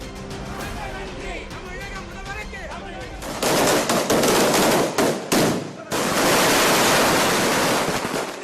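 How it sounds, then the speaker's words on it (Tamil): Villagers in Ekanapuram burst firecrackers to celebrate, a loud, dense chain of rapid crackling pops that comes in rolling volleys with brief gaps between them, over a background of outdoor crowd noise. "ஏகனாபுரம் கிராம மக்கள் பட்டாசு வெடித்து இனிப்புகள் வழங்கி மகிழ்ச்சியை கொண்டாடினர்."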